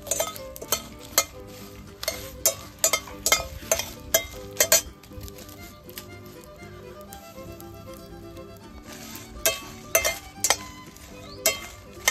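Repeated scraping and clinking of a spatula stirring spices dry-roasting in a pan over low heat, rhythmic sharp hits over a light sizzle.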